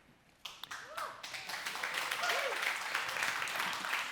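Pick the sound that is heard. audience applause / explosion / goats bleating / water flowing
audience applause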